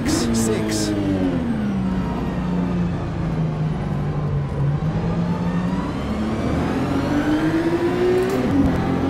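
BMW M2 CS engine in a racing simulator game, revving steadily with a rising and falling tone through the whole stretch, loud and continuous, with faint talk in places.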